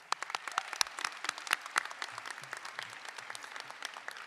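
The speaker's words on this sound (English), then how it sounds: "Let us give our guests another round of applause." An audience at a high school commencement ceremony in a performing arts hall applauds, with sharp, distinct claps standing out at first and then thinning into a softer, steadier patter.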